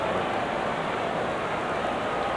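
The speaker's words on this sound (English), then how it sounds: "Rain at Shea." Steady rain falling on Shea Stadium, the Mets' ballpark in New York, during a 1990 Reds–Mets baseball game, a soft continuous hiss with no voices, heard as an even wash of drops throughout.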